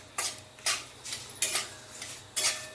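Peanuts being stirred and roasted in a pan for Maharashtrian pohe, heard as four or five separate scraping, clinking strokes of a utensil against metal, spaced about half a second apart and close by with no talking.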